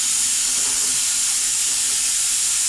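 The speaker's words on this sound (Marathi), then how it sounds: "कुकरची शिट्टी मध्येच झाली" A loud, steady hiss of steam jetting from a pressure cooker cooking chicken and mutton curry, continuous and unbroken throughout.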